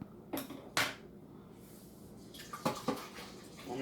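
Water runs from a home kitchen tap to rinse out a container while sweet tea is being made, with a few sharp splashes and clatters over a steady, soft flow.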